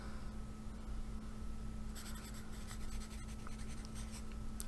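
Pencil scratching across paper in close, dry strokes, with a steady quiet hiss underneath; bursts of brisk scribbling fill the second half.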